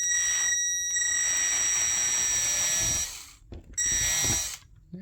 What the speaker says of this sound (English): be careful not to drill all the way through the door